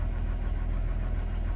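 A Honda BF X6 Mk 2.5 outboard engine idles steadily on its first start of the day, giving an even, continuous low mechanical drone with no knocking.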